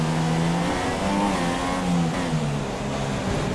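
A Formula 1 car in F1 2016 powers out of a chicane at Singapore with a bit of wheelspin, its engine a loud, steady high-pitched whine that rises and dips slightly as it accelerates close by, with no talk.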